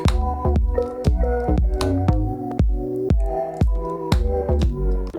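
Sampled OP-1 beat with a steady kick drum, the backing chords ducking and swelling in a sidechain pump after each thump; loud, rhythmic and without voices.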